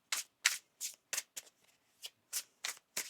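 Tarot cards are shuffled in crisp, rapid riffles, about nine quick bursts separated by brief pauses, close and clear with no voices over them.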